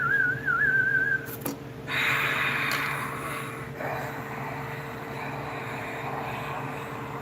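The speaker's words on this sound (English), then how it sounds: "let me try to whistle" A person whistles a short wavering tune close to the microphone, lasting about a second, followed by a steady background hum.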